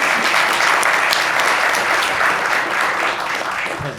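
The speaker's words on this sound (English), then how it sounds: "let's give her a round of applause too" Steady, dense clapping from a crowd at a school board meeting fills the whole stretch, loud and continuous without pauses, tapering only slightly at the end.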